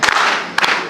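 A brief burst of audience clapping at a Kalenjin cultural launch event in Baringo, with dense hand claps fading briefly and then surging again near the end.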